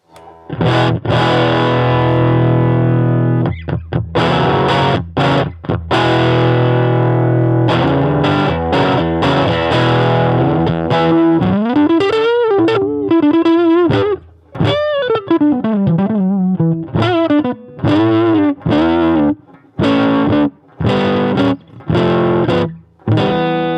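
Loud, heavily distorted electric guitar through a Harley Benton Tube5 tube amp at full volume, playing chords and riffs, crunchy and saturated, with short pauses between bursts.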